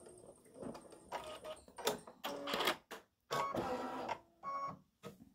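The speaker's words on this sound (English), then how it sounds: "Alright, so it's going to stitch the little curl at the bottom." An embroidery machine stitches a small curl at the bottom of a St Patrick's gnome design, running in quiet mechanical bursts with clicks and short pauses between them.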